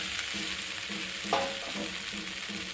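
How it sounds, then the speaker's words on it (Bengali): Fried soybean chunks and pointed gourd cooking with spices in hot oil, giving a soft, continuous sizzle with faint stirring scrapes and a brief clink partway through. "আর এখন আমি দিয়ে দেবো ভেজে রাখা সয়াবিনগুলো আর পটলগুলো দিয়ে মশলাটা একটু ভালোভাবে কষিয়ে নেব।"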